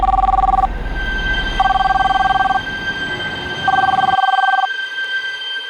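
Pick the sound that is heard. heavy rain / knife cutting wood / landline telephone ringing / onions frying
landline telephone ringing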